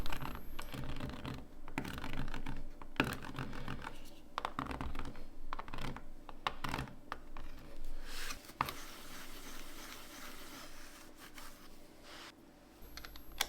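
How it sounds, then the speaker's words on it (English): Plastic LEGO bricks being worked with a brick separator tool while building a mosaic, heard as dry scratching, rubbing and tapping clicks in an uneven, close-up run. "I'm using a Lego brick separator tool to make sure everything is aligned."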